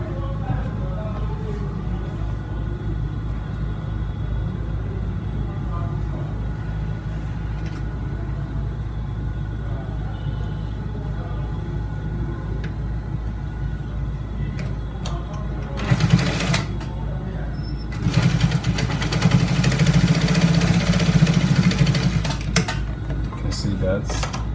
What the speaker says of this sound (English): So I just stitch from the edge right here.